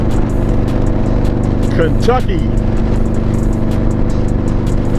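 Harley-Davidson motorcycle engine droning steadily on a highway between Tennessee and Kentucky, a continuous low rumble with wind noise throughout, while a rider talks over it.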